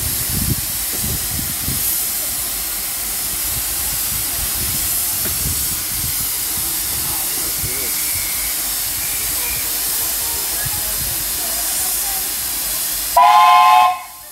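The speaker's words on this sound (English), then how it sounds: "The train on platform 2 can now depart." A steam locomotive pulls away from a heritage railway platform with loud, continuous hissing and chuffing, then a brief shrill steam whistle blows near the end.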